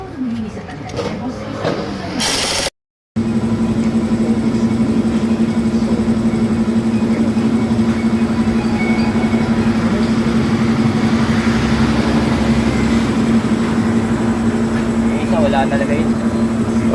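A repaired Yamaha Aerox S scooter engine runs steadily at idle with a constant hum after a brief gap near the start, while people talk over it at first.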